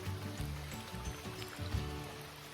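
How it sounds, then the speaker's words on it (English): A small stream flows along a bush track at Mount Ninderry Nature Reserve under a sheltering canopy in light rain, a steady close babble and trickle with no voices over it. "We've come across this flowing stream."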